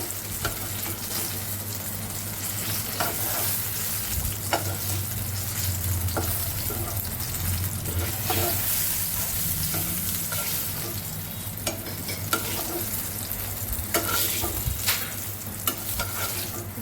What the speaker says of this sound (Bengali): সুন্দর করে বেগুনগুলো ভেজে নিলাম